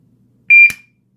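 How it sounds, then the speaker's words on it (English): A Chinese smiley-face padlock's alarm muffled by a single strip of masking tape sounds one short, sharp high-pitched beep, followed at once by a brief click, alone and close. "And that alarm's pretty loud when it goes off."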